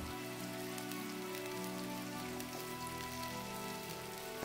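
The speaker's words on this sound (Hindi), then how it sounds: "इन सबको अच्छी तरह मिक्स कर लेंगे और 2 से 3 मिनट भून लेंगे" Cumin, coriander, green chilies and spices fry in a pan for chana pulao, giving a dense, steady sizzle with crackling pops close to the microphone and no voices.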